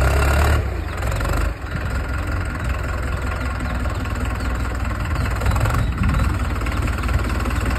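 A farm tractor idles out in a field, its engine holding a steady, loud low rumble with a slight knocking pulse and one brief dip near the start.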